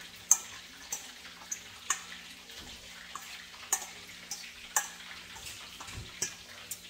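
Pig ears being stirred through a spicy pickling marinade give off wet, sticky clicks and squelches at an uneven pace. The sounds are close and fairly quiet, and no one speaks.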